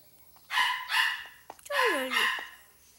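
A neighbourhood dog barks four times, close by and fairly loud, with a brief whining yelp between the barks.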